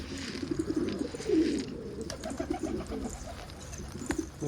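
Wild pigeons cooing nearby, with soft, low, repeated coos rising and falling in a continuous murmur and the occasional faint chirp, and no talk.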